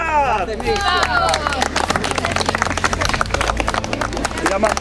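Crowd at an outdoor event in Ostromecko cheering and clapping for a fourth-place team, dense broadband clapping mixed with shouts and babble, with a steady low hum underneath and a voice rising over it at the start.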